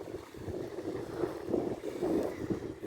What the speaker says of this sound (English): You listen to the tide lapping against the coastline.